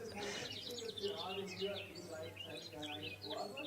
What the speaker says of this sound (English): but the birds are chirping